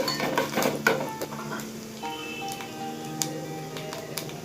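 Chana dal, urad dal, cumin and mustard seeds frying in a pan, heard as clinks of a metal spoon against the pan, a few sharp ticks and pops, and a soft hiss, close and moderately loud with no talk.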